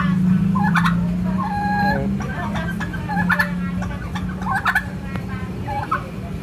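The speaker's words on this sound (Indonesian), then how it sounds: "ayam kalkun ini. Jadi jarang kita temui ayam ini." Turkeys gobble repeatedly in rapid warbling bursts over a steady low hum, several calls overlapping at close range.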